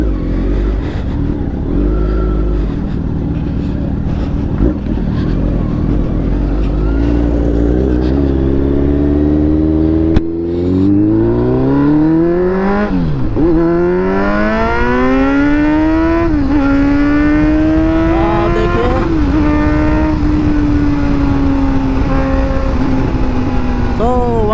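A Kawasaki Ninja Z900 naked motorcycle accelerates on a test ride, its engine rising in pitch through several gear changes, loud and close with heavy wind rush.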